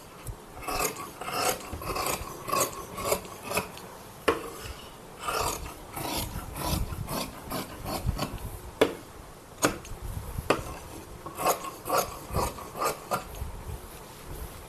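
Scissors snip through blouse sleeve fabric in a steady run of short, close cuts with brief pauses, crisp and fairly quiet, with no talking.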